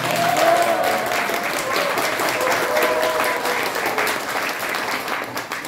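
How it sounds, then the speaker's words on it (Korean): Crowd at a Korean political rally clapping loudly and steadily for several seconds, a thick wash of applause with faint voices underneath. "다시 한 번 더 크게 칩시다."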